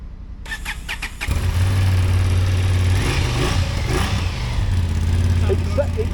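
A 2025 Honda Hornet 750 parallel-twin motorcycle engine with stock exhaust starts with a few cranking bursts, then settles into a steady, loud, low idle that rumbles on to the end.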